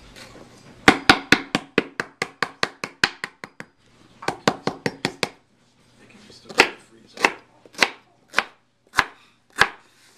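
Knife chopping lemongrass on a board: rapid, even bursts of sharp crisp cuts, then a pause and slower, spaced single chops, close and clear, with no talking.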